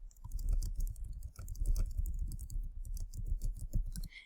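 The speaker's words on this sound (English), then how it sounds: "I just use my keyboard to type that in" Typing on a computer keyboard: a steady, busy run of close, crisp key clicks with slight irregular pauses, alone with no talk.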